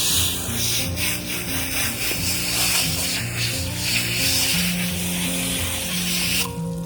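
A pressure washer hisses in a steady, close spray as it soaks a horse with soap, a continuous loud wash of water with a brief change near the end.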